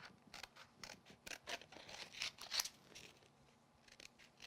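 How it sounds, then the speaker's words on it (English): Scissors slowly cut around the underside edge of a paper craft piece, making a quiet, close string of short snips and faint mechanical clicks at an uneven pace, with no voices. "I'm just going to use my scissors around the underneath edge of that."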